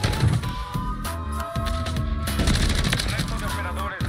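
Rapid automatic gunfire from a console shooter video game crackles in dense, continuous bursts, loud and close, with game sound effects layered underneath.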